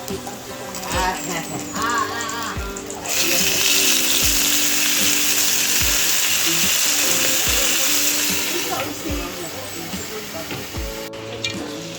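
Gyoza dumplings fry in a pan with a loud, steady sizzle that swells midway, punctuated by clicking knocks, while people talk nearby.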